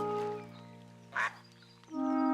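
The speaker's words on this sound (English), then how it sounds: "I think we're gonna have lots of ducks coming in to live here" Ducks quacking in the video game Tiny Glade, a few short nasal quacks with one sharp burst in the middle, heard over a sustained tonal musical background.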